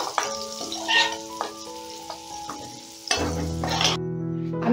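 Oil and about two spoons of ghee crackle and sizzle in a cooking pan, a steady close hiss with occasional pops. A sustained tonal hum sits under the frying, and no one speaks.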